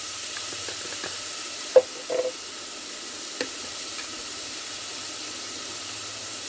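Chilli, turmeric and cumin powders fry in a pan for lau shak with mustard and poppy seed paste, giving a soft, even sizzle with a couple of brief knocks and stirring scrapes.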